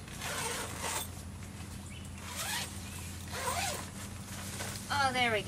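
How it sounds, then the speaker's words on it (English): The zipper of an awning room tent is pulled open in several short, scratchy, close tugs, ending in a quicker zip. "So see her little fingers down there reaching and unzipping?"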